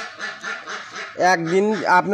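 Several ducks quacking nearby in a noisy, overlapping chorus, with the calls growing louder and more nasal partway through.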